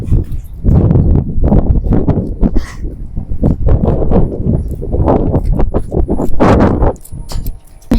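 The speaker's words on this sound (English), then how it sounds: "So that is how the horse walker works." Hooves of a horse walking on a horse walker at a farm, loud close irregular thuds and scuffs in a steady stepping rhythm, with some rustling and clatter alongside.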